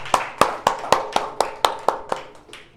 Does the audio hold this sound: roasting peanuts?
no